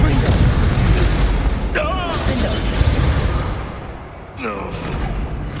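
Fiery spell blasts booming through a Hogwarts Legacy wizard duel, loud and dense throughout, with magical whooshes and sweeping tones layered over a constant rumble and a brief dip before the noise swells again.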